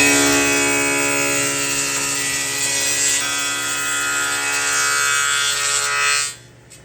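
A power tool cuts a half-inch rabbet along the back edge of a cabinet piece for a vanity, a loud, steady buzzing cut that runs continuously for about six seconds before stopping.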